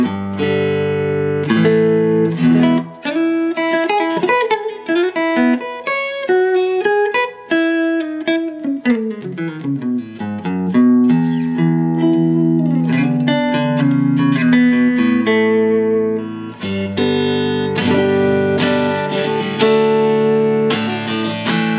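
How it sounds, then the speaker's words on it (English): Electric guitar on its neck pickup through a 1966 Fender Princeton Reverb amp, a clean, warm melodic passage of picked notes and chords that rings out with reverb, loud and close with no talking. "Neck pickup. I'm playing through a 66 Fender Princeton Reverb."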